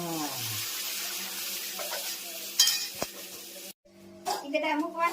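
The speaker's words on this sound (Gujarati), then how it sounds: "અને આ દાળનો વઘાર." Dal being tempered as spices crackle and sizzle in hot oil, with stirring and clinks of a utensil, a short break near the end, then louder sizzling bursts close by.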